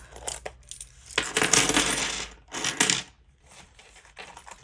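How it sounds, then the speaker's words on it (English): Coins clink and rattle as they are tipped and scooped out of a heavy, full wallet, with dense metallic jingling in bursts separated by brief pauses, close up and with no talking. "This wallet is getting a little heavy, so I actually would like to take all these coins out because there is quite a bit in here."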